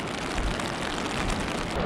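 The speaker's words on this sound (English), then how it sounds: "Bet it can pick up the sound of the rain hammering down on the umbrella." Rain hammers down on an umbrella during a day out on the coast near Newquay in Wales, a dense, steady close-up patter that fills the whole moment without any voices.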